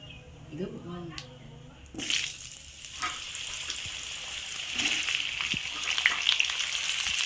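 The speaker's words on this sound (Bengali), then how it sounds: "এরপর কেটে রাখা আলুগুলোকে আমি ভালো করে ভেজে নেব।" Cut potatoes go into hot oil tempered with whole cumin seeds and bay leaves, setting off a sudden loud hiss that settles into a steady close sizzle. Someone talks briefly before the sizzle starts.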